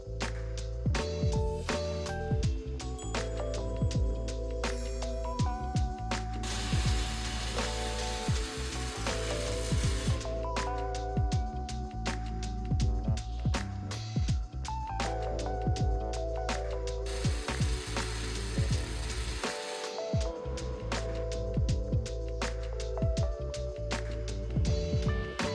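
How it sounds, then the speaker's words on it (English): MIG welding of steel tubing onto the base of a floating stair frame gives a steady close-up sizzling crackle that runs continuously with brief breaks, loud and alone without talk. "I welded the tubing to the bottom of the stair structure to tie everything together."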